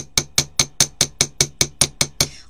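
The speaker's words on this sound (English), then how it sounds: "I prefer to use a small toffee hammer" A small toffee hammer taps wire against a mini bench block in about a dozen steady, evenly spaced metallic strikes, close and fairly loud, with no voices.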